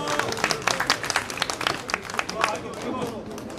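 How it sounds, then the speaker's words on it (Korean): Applause and scattered clapping from a crowd at a taekkyeon match, rising after the start of the first bout between two players, with crowd murmur and some voices mixed in. "두 선수에게 큰 박수 보내주시기 바랍니다"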